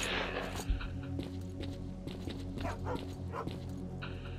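A dog-like monster in the S.T.A.L.K.E.R. Clear Sky video game barks and yips amid a constant low game ambience and hum, the calls fairly faint and scattered over the soundscape.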